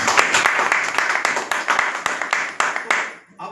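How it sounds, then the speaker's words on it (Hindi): Audience applause for a guest speaker at a motivational seminar: dense, steady clapping from many hands fills the clip, close and fairly loud, thinning out just at the end. "एक बार सुभाष सर के लिए ताली।"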